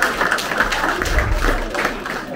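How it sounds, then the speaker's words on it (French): A room of guests at a surprise birthday party bursts into dense, steady applause for the family, continuous clapping with crowd noise close and loud throughout. "Applaudissez pour la famille,"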